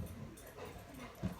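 Dogs whimper and yip softly in a quiet indoor setting, a thin continuous whine with a brief louder cry near the end, fairly close.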